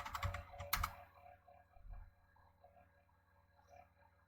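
Several quick keystrokes on a computer keyboard as a command is typed and entered on a Kali Linux machine, clustered in a short burst near the start, then quiet room tone.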